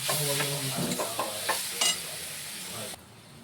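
Grated coconut and jaggery are stirred in a hot pan, a spoon scraping over a steady sizzle, close and fairly loud, before the sound cuts off near the end.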